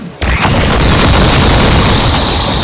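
A heavy bombing explosion in a video game erupts after a brief quiet moment, a loud close boom that swells into a sustained rumbling roar filling the rest of the moment.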